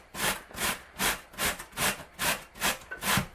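A potato is grated on the biggest holes of a box grater in eight even, rhythmic rasping strokes, each a brisk scrape about half a second apart, close and clear with no talk.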